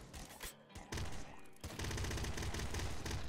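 Yo-Yo guns fire in rapid, dense bursts in the video game Nuclear Throne Ultra Mod, a loud, continuous barrage of gunfire that briefly dips before surging back and holding steady.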